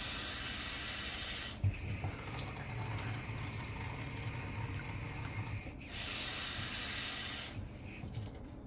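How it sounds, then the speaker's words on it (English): Running water pours steadily from a tap while rice is rinsed, a continuous close hiss broken by brief pauses when the flow shifts. "So we're gonna wash our rice."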